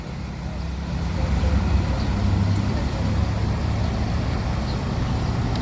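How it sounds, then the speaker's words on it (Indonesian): A heavily loaded Medan intercity bus rumbles past in traffic, a low engine drone swelling and holding steady at close range. "bus Medan"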